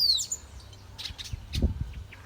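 Small birds sing in the morning in Arceburgo, Brazil, with a bright descending whistle at the start followed by scattered short chirps and tweets at a moderate distance over a low background hum.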